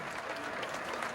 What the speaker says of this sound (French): Maintenant, ils applaudissent, c'est fabuleux.